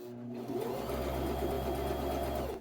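A sewing machine stitches the corner of a porch pillow, running in a steady, continuous motor whir with a rapid needle rhythm, close and fairly loud, picking up speed after a brief start and running alone without talk.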